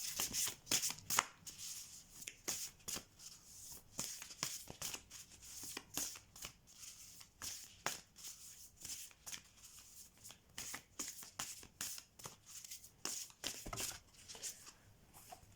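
Oracle cards being shuffled by hand, close and quiet, a steady run of soft riffling flicks and slaps repeating throughout with no talking.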